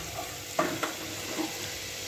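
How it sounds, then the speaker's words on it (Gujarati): Soft continuous sizzle of chilies frying in hot oil for tempering dal, with a couple of sharp spoon clinks against the pan. "આપણું મરચું જરાય બળવું ન જોઈએ એવી રીતે તેમને વઘારવાનું"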